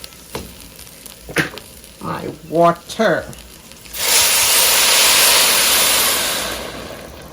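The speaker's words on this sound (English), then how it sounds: "now that my rice is nice and toasty, it's time to add my water" Water poured into a pot of toasted rice erupts into a loud, sustained sizzle and hiss that slowly fades, preceded by a few clinks and brief speech-like sounds.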